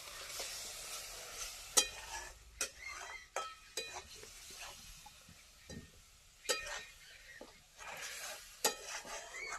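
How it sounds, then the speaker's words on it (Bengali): Ground coriander leaf paste stirred into cooked spice masala in a pan for a coriander chutney: repeated spatula scrapes and clinks over a soft, steady sizzle, close by with no talk. "এবার মশলার সাথে ধনেপাতাটাকে ভালো করে মিশিয়ে দেবো।"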